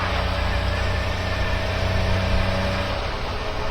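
A Honda Beat's small engine idles close by in a steady, continuous low rumble with a faint vibrating buzz, holding even for several seconds.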